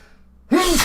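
A single sharp sneeze bursts out after a moment of near silence, loud and close, with a breathy rush trailing off.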